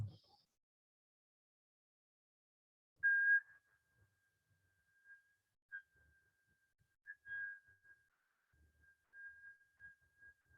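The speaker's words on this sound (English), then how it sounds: "you're listening to that whistle" A thin, faint steady whistle, breathy and sustained, drifting in and out with soft gaps in an otherwise quiet space.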